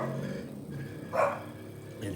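A dog outdoors by a street barks at passing cars, one short mid-range bark rising above a steady background hum, with faint voice-like sound around it.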